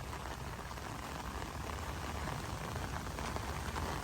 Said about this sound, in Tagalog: baybayin natin itong Manila Bay Dolomite Sand habang pumapatak ang malakas na ulan